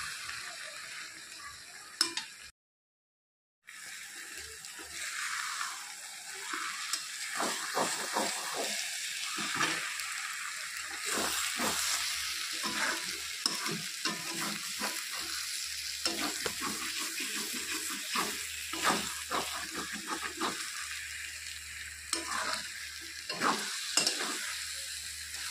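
Potato and eggplant pieces sizzle steadily in hot oil in a pan while a spatula stirs them, with scraping and clinking strokes recurring irregularly over the constant frying hiss.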